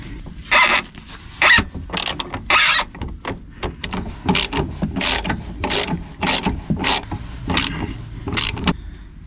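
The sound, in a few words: socket wrench unscrewing shock absorber bolt on Renault Kangoo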